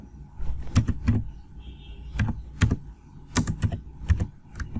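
Keystrokes on a computer keyboard while entering HTML code, arriving in short irregular clusters of sharp clicks with pauses between bursts, close and moderately loud with no talking.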